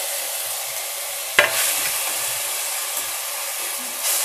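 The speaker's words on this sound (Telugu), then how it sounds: "కొద్దిగా ఆయిల్లో వేపుకోవాలి ఇలాగా." Grated gooseberry mixture hits hot oil with a sharp sizzle, then settles into a steady, even frying hiss with a few faint spoon scrapes, close and alone without talk.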